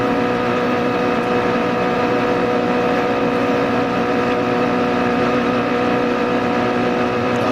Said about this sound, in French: Vous avez pu entendre en effet le régime moteur dans les stands.